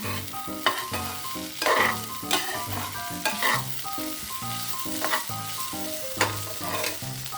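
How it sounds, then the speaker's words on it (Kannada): Ground coconut paste fries in a pan for upma, giving a soft sizzle with scraping stirs, set against steady melodic background music. "ಮೇಲೆ ಕೊಬ್ಬರಿ ರುಬ್ಬಿಟ್ಟಿದ್ದೆಲ್ಲ ಅದನ್ನು ಹಾಕಿಬಿಟ್ಟು ನಾನು ಇದನ್ನು ತಾಳಿಸ್ತಾ ಇದ್ದೀನಿ"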